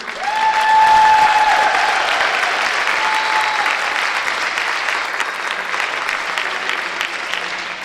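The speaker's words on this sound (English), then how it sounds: "Everybody give a big round of applause to FRC." Sustained applause fills an indoor gym for the finalist team at a high school team handball provincial championship, a dense, even clatter of clapping from a crowd that swells early and then gradually eases off.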